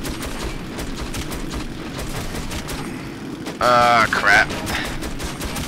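Gunfire in the Metro 2033 video game, heard as a dense burst of rapid shots with ringing metallic tones, two short loud bursts near the end over a steady background of game ambience, with a brief spoken word.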